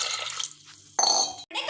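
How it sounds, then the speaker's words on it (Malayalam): Water splashes into a pressure cooker holding chickpeas for a Kerala kadala curry, a short close burst of pouring and liquid churning after a moment of quieter kitchen clatter. "അത് കഴിഞ്ഞ് നമുക്ക് വെള്ളം ഒഴിക്കാം"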